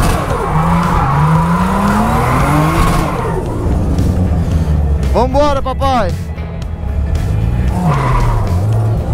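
Nissan 350Z drift car on a test drive with a freshly replaced clutch, loud engine revving through rising and falling gears, a sharp squealing tire skid in the middle, and someone talking over it.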